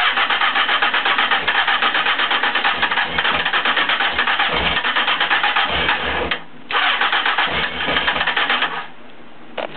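A Honda CBF600 motorcycle is cranked with the choke on. The starter whirs loud and continuous for several seconds, cuts out briefly, then cranks again.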